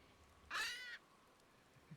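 A single harsh screech from a pet macaw, one of four kept in a home, a brief, loud squawk standing out against a quiet room.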